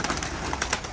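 Pigeons coo and flutter softly inside a bird tower, a brief close burst of bird sounds over a noisy background.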